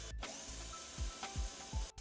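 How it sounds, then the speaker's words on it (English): A drill with a 3/32 inch bit pre-drills marked holes for an under-sink pullout organizer, a faint close whir broken into several short repeated bursts of whine and pulse. "Pre-drill the awl marks using the 3/32 inch bit."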